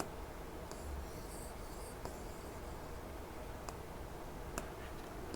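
Chalk or marker writing on a board during a Hindi polity lecture, faint scratchy strokes and occasional taps over steady room hiss, with no voice present.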